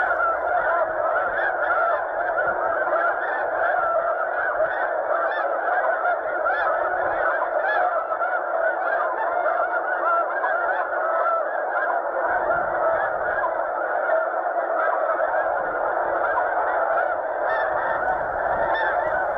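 Large flock of snow geese honking continuously and loudly overhead during a South Dakota goose hunt, a dense unbroken chorus of overlapping calls throughout.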